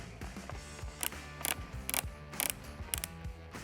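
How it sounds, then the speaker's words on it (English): Shotgun magazine end cap on a Retay Gordion semi-auto 12 gauge being screwed back on, giving a quiet series of close, sharp ratcheting clicks in uneven rhythm. "just take the magazine cap or end cap, screw it back on. It's gonna click."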